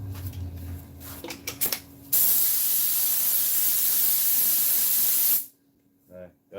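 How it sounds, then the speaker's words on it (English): Glue sprays from an aerosol can onto a seat piece during reupholstering in one steady, loud hiss of about three seconds. Brief handling noises and some talk come before it, and a few quieter sounds follow. "Spray a little bit more glue on it."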